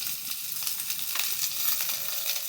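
Beans, peas and carrots fry in a pan with a steady, soft crackling sizzle and faint stirring scrapes, the sound continuous and close, with no talk.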